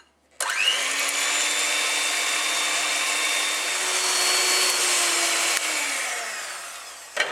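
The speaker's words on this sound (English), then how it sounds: "we're going to take the hand whisk and we're going to whisk on fast for 1 minute" Fast whisking of egg whites for a lemon cheesecake, a loud steady whirring drone that starts abruptly and holds evenly for about seven seconds before cutting off, no voices.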